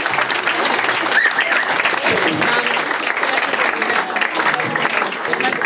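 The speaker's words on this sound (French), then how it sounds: "sous vos applaudissements." Sustained audience applause fills the hall at the Diderot Prize 2015 award ceremony, a dense, steady clapping that holds loud and even throughout without pause.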